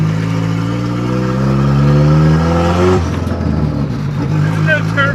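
The Nissan KA engine of a 240sx drift car, with no turbo and ignition timing off, runs at its first start: a loud, steady idle drone heard from inside the car while people talk over it.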